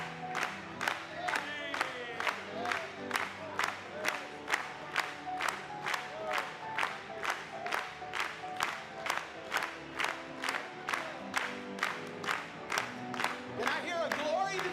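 A church congregation acclaims with steady rhythmic clapping, one clap roughly every half second throughout, mixed with voices and cheering in a reverberant hall.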